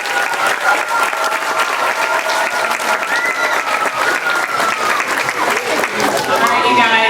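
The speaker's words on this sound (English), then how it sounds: "let's give him one more round of applause" Elementary school audience applauding loudly, dense continuous clapping with crowd voices mixed in, holding steady and close throughout.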